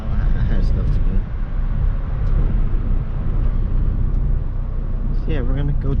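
A car with a newly repaired exhaust leak idles and drones steadily at a small car meet, a loud, close low rumble throughout with a person talking faintly over it.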